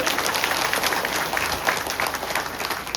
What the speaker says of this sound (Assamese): এবাৰ দীঘলকে হাত চাপৰি বজোৱাৰ কাৰণে অনুৰোধ জনাইছো